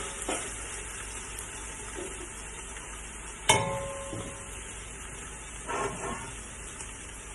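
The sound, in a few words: frying pepper and garlic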